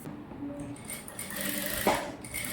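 A sewing machine stitches a girl's gown with a steady, close whirring run, briefly interrupted by a small metallic click partway through.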